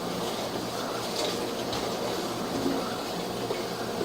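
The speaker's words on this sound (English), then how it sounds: "we do have water dumping back onto the lid of the sewage ejection tank" Water splashing steadily onto the lid of a sewage ejection tank tied into atrium drain lines, a continuous rushing, pattering wash with a low rumble beneath it.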